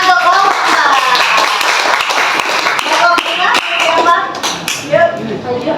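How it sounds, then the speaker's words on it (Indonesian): A classroom audience applauds a student group after their presentation, loud rapid clapping that continues for several seconds and thins toward the end, with voices chattering throughout. "tepuk tangan untuk kelompok"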